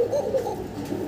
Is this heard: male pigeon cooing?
yes